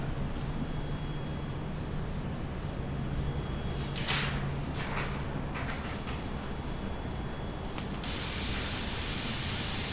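An airbrush sprays over a resin pour, producing a steady hiss with a few brief bursts midway and a brighter, stronger spray near the end.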